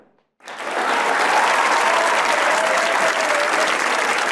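A studio audience on the Pakistani talk show Hasna Mana Hai breaks into applause after a brief silence, a dense, even round of clapping that stays loud and steady to the end.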